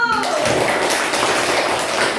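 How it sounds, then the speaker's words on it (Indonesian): A classroom group claps together, with a burst of quick, close hand claps that starts after a brief voice and carries on steadily and loudly to the end. "Tepuk tangan dulu."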